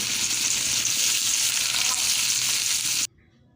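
Onions sizzle and crackle steadily in hot oil in a pan while cooking for a koi fish dish, a dense close frying hiss that runs continuously and then cuts off abruptly near the end, with no talking.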